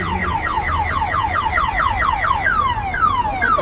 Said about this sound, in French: les alarmes à 10 balles de chez Costco aux États-Unis